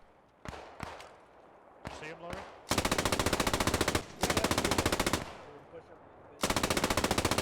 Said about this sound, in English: You also got the machine guns behind us. You can see the green tracers there just firing down to the south